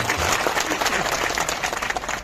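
An outdoor political gathering of a large crowd breaks into applause, dense clapping from many hands at close range, steady throughout with no voices over it.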